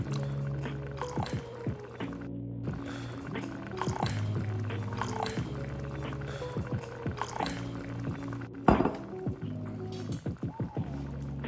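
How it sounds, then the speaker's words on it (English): Cabernet red wine pours into a pot for braised short ribs with liquid gurgling and splashing, joined by intermittent clinks and handling knocks at close range. No one speaks over it. "We're gonna add us in about a cup of some Cabernet Red Wine."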